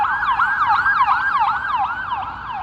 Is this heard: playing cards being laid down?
no